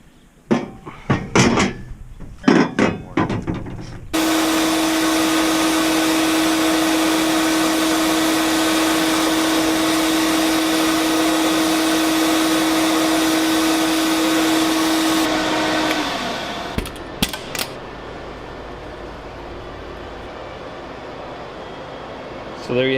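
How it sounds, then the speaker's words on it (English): Abrasive blasting of exhaust header collectors in a workshop gives a loud steady hiss of air and grit that lasts about eleven seconds and then cuts off, with clanks and knocks before and after. "So there you have it, freshly blasted collectors."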